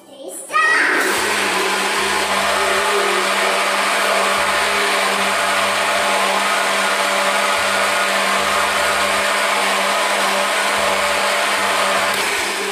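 A blender whirs steadily as it mixes pão de queijo batter, running loud and continuous after a sharp start, with a voice faintly audible underneath.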